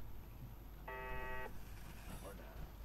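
A machine in the Fallout 4 video game at the Corvega assembly plant gives a single steady electronic beep lasting about half a second, clear over low background noise.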